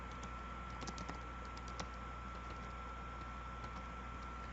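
Quiet typing on a computer keyboard: scattered soft key clicks in an irregular rhythm over a steady low room hum.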